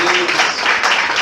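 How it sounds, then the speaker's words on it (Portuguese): A church congregation claps together in a dense, steady wash of applause that fills the room, with a faint voice underneath near the start. "Vocês podem aplaudir Jesus?"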